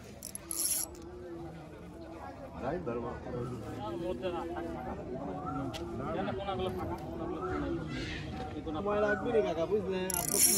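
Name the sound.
fishing reel drag clicking as a big catla fish pulls line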